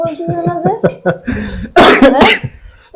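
Coughing from a person with a cold, a burst of harsh coughs near the end following a stretch of speech; close and loud, with talking before it.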